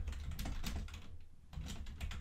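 Quick, light keystrokes on a computer keyboard, connected to a Galaxy phone through a USB-C HDMI adapter, click in an uneven flurry with one brief pause in the middle, close and quiet.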